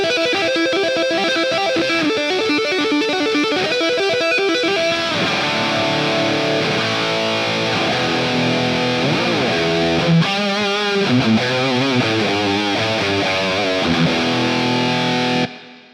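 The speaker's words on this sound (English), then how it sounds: "Can't play a 5150 without at least some tapping" A distorted electric guitar plays fast tapped runs and sustained notes through a 5150 amp model on a NUX MG-30, loud and continuous with no talking, ending abruptly.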